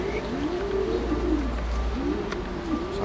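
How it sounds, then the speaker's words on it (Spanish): Racing pigeons coo in low, rolling, repeated phrases at a loft during pigeon-racing training, steady and fairly close, with a faint constant background hum. "Apenas llegaron las palomas."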